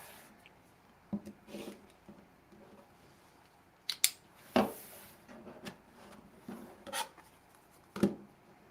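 Scissors trim fabric wings off a pineapple quilt block, giving scattered close snips and handling rustles over a quiet room, several distinct cuts spread across the span.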